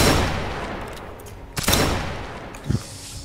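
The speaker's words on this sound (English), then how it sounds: "You keep taking shots. Fire roll, dude." Musket fire at a Napoleonic reenactment skirmish between Lützow Freikorps and Silesian Landwehr units, heard as a few sharp outdoor reports: two distinct loud shots with a fainter one later, echoing across open ground.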